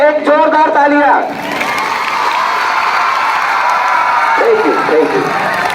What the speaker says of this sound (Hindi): एक बार और सभी सम्मानीय शिक्षकों के लिए एक जोरदार तालियां।